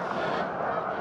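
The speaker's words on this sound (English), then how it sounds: "It's a lot of geese." A large flock of geese honks in the distance over a frozen lake near open water, a faint, dense chorus of overlapping calls heard alone.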